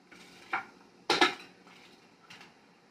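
Kitchen prep with a peeler and knife on vegetables for a home lunch: a few sharp clicks and scraping knocks, one stronger cluster near the middle and softer taps either side, close and fairly quiet with no talk.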